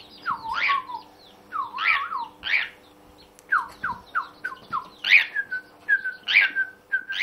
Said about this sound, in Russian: Щеглы, скворцы, свиристели,